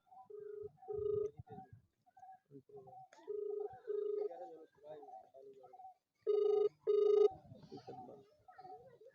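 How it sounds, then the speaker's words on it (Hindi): Ringback tone of an outgoing phone call, heard as paired electronic ring bursts that repeat three times, fairly loud and clear, with voices talking in the gaps between rings. "फ़ोन लगाता हूँ।"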